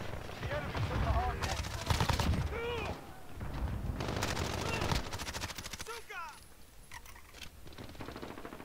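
MP5 gunfire in Call of Duty: Modern Warfare, several loud rapid bursts with pauses between them and a voice talking over parts of the shooting.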